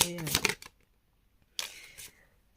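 A deck of tarot cards is shuffled in two brisk riffling bursts close by, separated by about a second of near silence.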